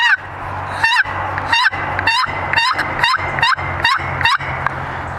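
A wooden turkey box call is scraped to produce a series of about eight raspy, yelping turkey calls in a steady rhythm, played close and loud with no talking.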